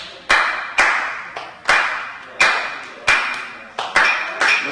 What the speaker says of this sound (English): So the clap will be like this.